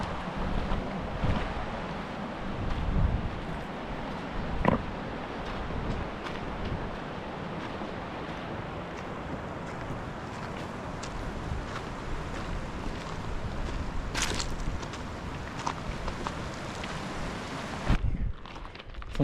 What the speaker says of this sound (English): Some pretty good water flow on this creek. I love the sound of this creek the whole way up.